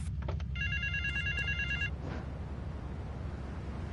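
A payphone in West Belleville Park rings in the video game GTA III, a bright electronic trill that repeats over about a second and a half, then stops, leaving low ambient hum.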